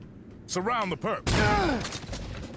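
Shotgun fire in the Saints Row 2 video game: a sharp, loud blast with a rolling tail, following strained, voice-like cries from the game.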